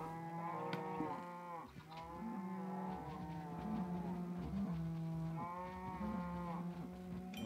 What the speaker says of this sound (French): Donc ici les vaches, il y en a pas mal.